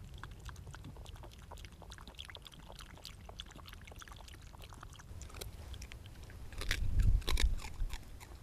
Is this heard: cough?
no